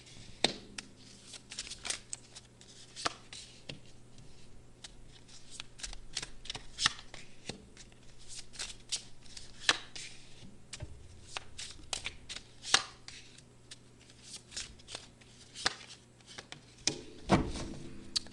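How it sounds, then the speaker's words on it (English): Tarot cards are laid out on a surface, giving soft, steady papery slides, flicks and light taps over a long stretch, quiet and close with no talking. "I'm going to lay the cards out and then tell you what they mean."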